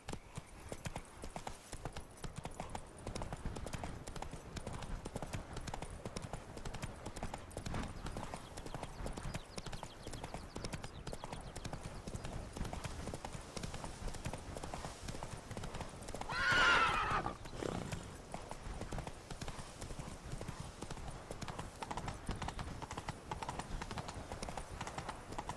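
Roach, the horse from The Witcher 3: Blood and Wine, with hoofbeats beating steadily on the ground under constant wind, and a loud neigh partway through.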